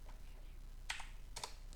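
A few keyboard key presses while working in SketchUp, the offset tool shortcut among them: two short, crisp clusters of taps against quiet room hiss, with no talking.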